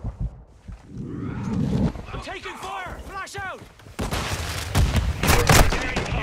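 Rapid bursts of gunfire in a first-person shooter match on the Dome map, loud and close, with several volleys and a dense stretch of shooting near the end, mixed with excited player voices.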